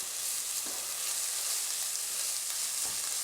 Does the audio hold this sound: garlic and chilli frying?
yes